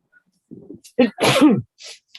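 A single loud, close sneeze with a sharp intake breath before it, followed by a brief quiet breath.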